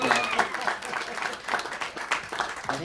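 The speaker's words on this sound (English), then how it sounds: "Give a big round of applause." An audience at a Hawaiian steel guitar convention performance claps and applauds steadily and continuously, with a crowd murmur beneath the applause.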